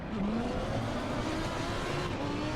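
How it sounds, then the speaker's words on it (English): A Challenger race car at Donington in a racing video game gives a loud, continuous engine roar with rising pitch as it revs and accelerates, alone without voices. "That's more the kind of noise I want in my race cars."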